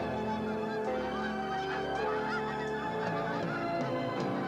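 A flock of Canada geese honking, many overlapping calls forming a dense, continuous chorus at moderate distance with no talking.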